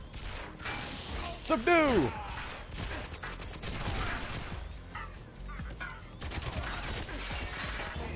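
Gunfire from James Bond's weapon in GoldenEye 007: Reloaded crackles in quick, dense bursts through a chaotic firefight, mixed with shattering impacts and a brief shouted voice.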